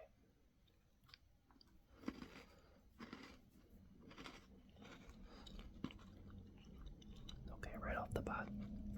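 A chocolate chip cookie is eaten up close in a quiet room, with soft crunches and wet chewing interspersed with faint whispering, the chewing growing denser toward the end.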